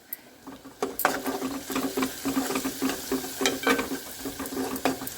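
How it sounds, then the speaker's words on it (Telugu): Crushed garlic and turmeric sizzle in hot oil while being stirred, a crackling hiss broken by repeated scraping and clattering strokes of the spoon against the pan, close and fairly loud. "వెల్లుల్లిపాయలు నూనె వేయంగానే మంచి కమ్మటి ఫ్లేవర్ అయితే వస్తుంది"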